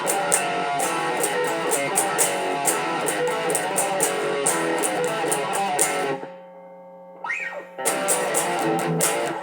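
Heavily distorted electric guitar plays a transition riff, built on chugging power chords, loud and close, then drops to a ringing sustained chord before a pick slide and the riff kicks back in.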